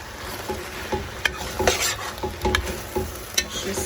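A spoon stirs vegetable pasta sauce in a pot, with repeated scrapes and clinks against the metal at an uneven rhythm over a soft sizzle, close by and without talking.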